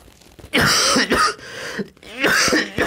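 A man coughs and clears his throat in a few harsh, close bursts over about three seconds, with short pauses between them.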